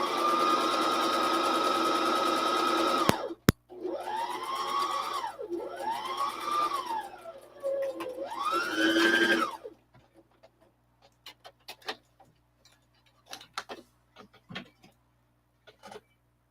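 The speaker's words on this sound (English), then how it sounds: "sewing machine" A very old, cheap sewing machine runs in a long steady whir, then a series of rising and falling motor surges, followed by scattered clicks and taps as the machine stops.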